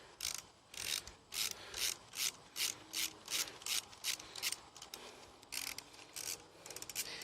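Ratchet wrench loosening an engine mount bolt on a 1976 Honda Elsinore MR 250 motorcycle: a long run of rhythmic clicking ratchet strokes, about a dozen bursts in steady succession, close and clear with no talk.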